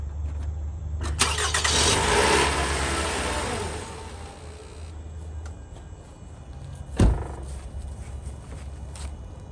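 A car engine cranks with a whirring starter, catches briefly and then settles into a lower idle. A sharp knock is heard later in the clip.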